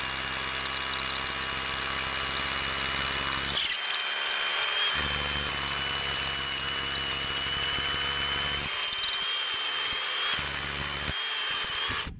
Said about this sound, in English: I do wanna take my little hammer drill and see if I can't chop the top part of this off though.